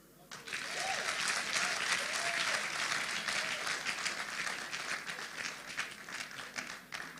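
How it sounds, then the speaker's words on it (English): An audience at a debate event applauds for a speaker, with a thick, sustained burst of clapping that swells in quickly and holds steady, while faint voices sit underneath it. "Keep clapping as Odd Felix makes his way here. Keep clapping, keep clapping."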